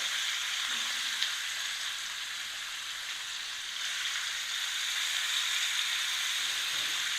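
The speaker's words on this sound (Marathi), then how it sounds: "सगळी छोटी मच्छी टाकून झालेली आहे तव्यावरती।" A steady, loud sizzle of small fish frying in hot oil on a flat griddle, continuous hissing with faint crackles, close up and without talk.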